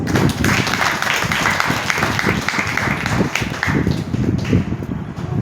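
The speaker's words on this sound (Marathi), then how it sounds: "ब्रदरसाठी टाळ्या वाजवा आपण थोडंसं." A church congregation applauds a brother, a dense, steady wash of many hands clapping together throughout, fairly loud and even, with faint voices mixed underneath.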